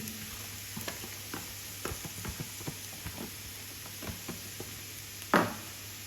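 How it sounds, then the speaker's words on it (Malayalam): Sliced onions with chopped green chillies sauté in a pan for a Punjabi bhindi masala, giving a faint, steady sizzle broken by scattered scrapes and taps of stirring and one sharper clatter near the end. "ഈ സവാള നന്നായിട്ടൊന്ന് വഴറ്റിയെടുക്കണേ"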